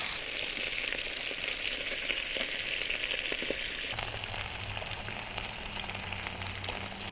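Meat from a mail-order meat box sizzles steadily in a hot pan, a continuous loud frying hiss; about halfway through it is flipped and the sizzle shifts in tone, carrying on without talk.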